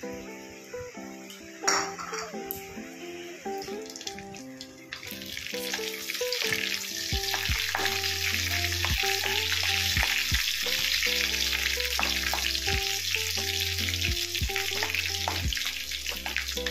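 A tempering of dry red chilli, whole cumin and mustard seeds fries in hot oil, starting quietly and swelling into a loud, steady sizzle with crackles, while background music plays throughout.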